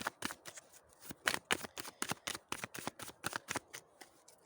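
Tarot cards are shuffled in a quick, close run of crisp riffling flicks, soft and intimate, with no voice over them.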